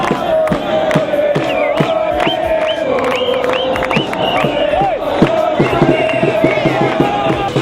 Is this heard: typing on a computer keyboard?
no